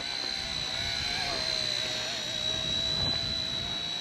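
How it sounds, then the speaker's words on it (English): A small AI-tracking RC spy helicopter flies nearby with a constant high-pitched motor and rotor whine. The tone is steady and fairly loud throughout, with no pauses. "Little AI spy drone."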